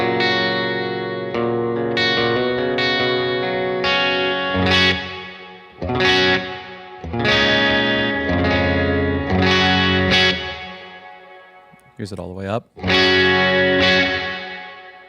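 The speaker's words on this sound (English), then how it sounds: "Cranking the reverb still sounds awesome" Distorted electric guitar chords and notes play through a Bad Cat Black Cat combo amplifier with its digital reverb turned all the way up, each phrase ringing into a long, wet tail; someone speaks briefly between phrases.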